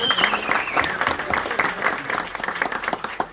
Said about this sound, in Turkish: Evet bir alkış alıyoruz kardeşimize.